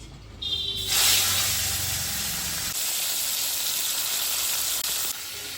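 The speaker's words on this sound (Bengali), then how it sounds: "তেল গরম হয়ে গেছে, এবার মাছগুলো দিয়ে দিচ্ছি।" Fish pieces dropped into hot oil in a kadai, a loud, steady hissing sizzle that bursts up suddenly and continues without pause, no talking.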